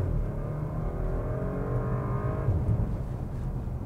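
A 2021 Porsche Macan S SUV launches from a stop in first gear, its engine note climbing steadily in pitch and holding loud until it drops at a gear change, heard from inside the cabin.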